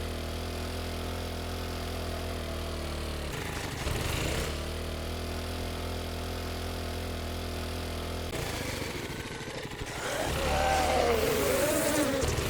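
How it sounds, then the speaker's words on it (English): Bees in a desert mining survival video game give off a steady droning buzz that runs throughout, joined by louder whirring and scattered combat noise toward the end. "First of all, take out the bees."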